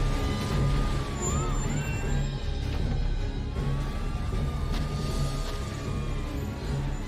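Sirens and explosions from the Brawl Stars video game, a dense, loud mix with gliding siren-like tones over a steady rumbling roar and occasional sharp bursts, with no talking.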